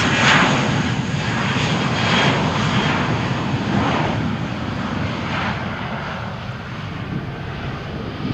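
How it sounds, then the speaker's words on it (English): A Vueling airliner takes off from Malaga Airport's runway 13 on a stormy morning. Its engines produce a loud, continuous roar that sustains and slowly eases toward the end, with no voices. "Okay, Vueling flight. It's cleared for takeoff."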